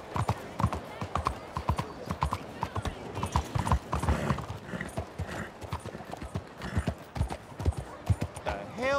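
Horse hooves clip-clopping in a quick, uneven rhythm in the video game Red Dead Redemption 2, close by, with a brief whinny and some voices talking over it.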